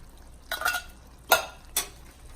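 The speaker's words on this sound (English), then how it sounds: "Give those a quick stir." A spoon stirs tomatoes in a pot with a few short, close scraping and clinking strokes, one longer swirl followed by two quick separate scrapes, with no talking.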